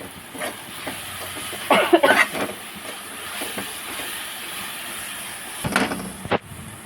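Gongura leaves fry in a pan with salt, turmeric and tamarind, giving a steady close hiss of sizzling with a few brief clatters and stirring scrapes over it.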